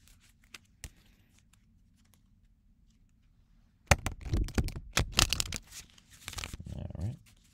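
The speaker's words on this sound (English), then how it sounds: "I'll do 3 casual shuffles and then 1 big shuffle." Tarot cards are shuffled by hand after a quiet pause, a burst of close riffling, flicking and papery snaps in several quick bursts.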